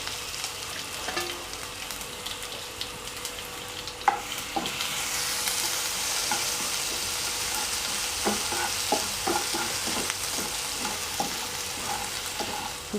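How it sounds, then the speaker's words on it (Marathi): Mustard seeds, cumin and garlic-ginger paste sizzle in hot oil for a cabbage kofta curry, a steady frying hiss broken by scattered pops, crackles and the clink of a spoon, with no talking. "तेल एकदम छान गरम झालेलं आहे आता ह्याच्यात आपण एक चमचा मोहरी टाकून घेऊ एक चमचा जिरे टाकून घेऊ लसूण अद्रकचं पेस्ट आहे ते पेस्ट पण टाकून घेऊ"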